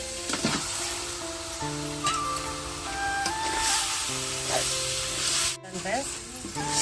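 Chicken pieces sizzle in hot oil in a pan while being stirred, a steady broadband frying hiss with scraping and rubbing strokes throughout, close and fairly loud, alongside faint tonal background sounds.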